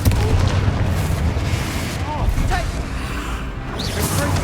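Explosion spells such as Bombarda and Confringo go off in Hogwarts Legacy with dense, loud booming blasts and crackling bursts throughout, mixed with voices and combat noise.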